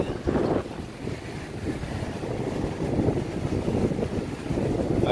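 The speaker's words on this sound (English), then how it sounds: "It's a bit windy." Wind blows outdoors, buffeting the microphone with a steady, loud, low rumble that continues through the whole stretch with no other clear sounds.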